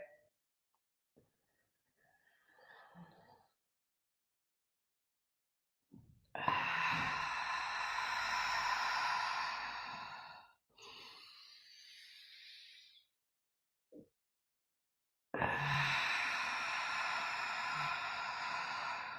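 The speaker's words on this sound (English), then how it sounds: "We can inhale through the mouth. So this is a calming and a soothing breath" Slow, calming breathing exercise with deep inhales drawn in through the mouth: two long, loud airy breaths of about four seconds each, separated by quieter softer breathing, close and with no speech.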